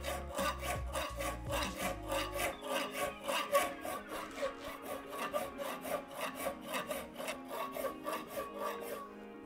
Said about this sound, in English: I can hold that in the vise and I can file how I want.